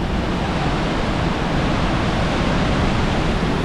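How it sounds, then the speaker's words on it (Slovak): Waterfalls in Yosemite National Park roar in a dense, constant broadband rush with no breaks, loud and enveloping like heavy surf, heard from a safe tourist trail close by. "je tu taký huk od vodopádov"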